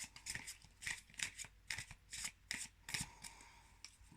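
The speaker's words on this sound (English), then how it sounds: "I'm going to give the cards a shuffle" Oracle cards shuffled by hand, a quiet, rhythmic series of brisk riffling and rubbing bursts at close range, with no talk.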